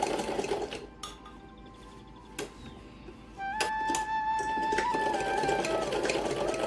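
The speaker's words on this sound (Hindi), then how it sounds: "अब हम इसकी सिलाई करेंगे" A sewing machine stitches fabric for a small doll dress, its whirring motor running in a short burst, pausing, then settling into a steady longer run at close range.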